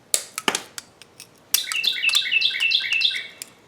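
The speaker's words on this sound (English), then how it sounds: "that bird sounds so pretty, doesn't it?" A bird lets out a run of bright, rapid chirps, close and fairly loud, following a few sharp knocks and clicks nearby.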